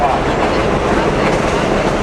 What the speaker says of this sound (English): There's a subway behind us.